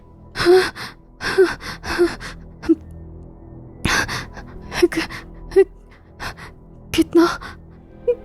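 Heavy, ragged panting on waking from a nightmare, with sharp gasping breaths in uneven bursts, close and loud, with quiet pauses between.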